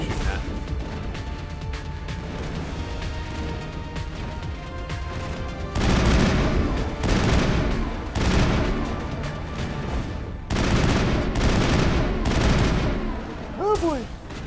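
Repeated bursts of video game gunfire from Mass Effect during a firefight, loud broadband volleys coming in waves over a steady background, with a voice talking over the shooting.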